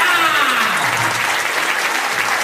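Loud, dense applause from a comedy show audience in an old building, continuous and sustained with no speech over it.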